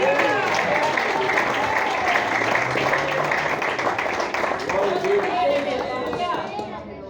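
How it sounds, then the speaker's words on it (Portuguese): A church congregation claps together loudly during a worship service, a dense, sustained burst of applause with voices calling out through it, slowly fading toward the end. "Bate palma agora."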